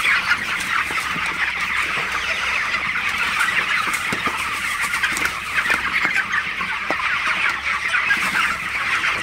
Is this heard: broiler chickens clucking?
yes